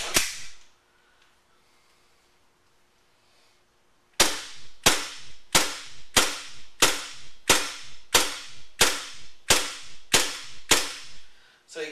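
WE G17 Tactical gas airsoft pistol firing gas only: one crack, a few seconds of quiet, then a rapid, evenly spaced string of about a dozen sharp snapping shots as the slide cycles.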